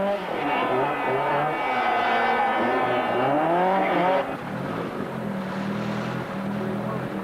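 A Lancia 037 rally car, two-wheel drive, races with a loud, close engine howl that climbs and falls through the revs before settling into a lower, steadier drone.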